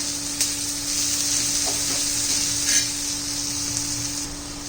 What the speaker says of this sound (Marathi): मस्त दोन तीन मिनटामध्ये बटाटा पण चांगला परतून निघेल